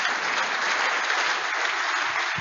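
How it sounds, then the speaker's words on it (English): Steady, full applause from an audience at a school's 90th anniversary inaugural service, praising the teaching and non-teaching staff, the crowd's clapping continuous and even throughout the short stretch. "a round of applause for us."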